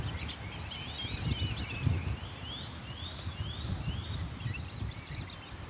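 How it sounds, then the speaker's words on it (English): Many birds chirp and call in overlapping bursts in a mangrove forest, over a rustling, breezy outdoor background, fairly faint and continuous. "So there's absolutely loads of birds here"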